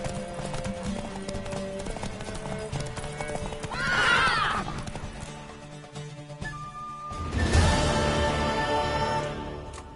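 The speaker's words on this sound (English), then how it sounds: "Want that horse, don't ya?" A horse in The Witcher 3 trots with clear clip-clopping hooves and lets out two loud whinnies, one partway through and a stronger one near the end, over game music.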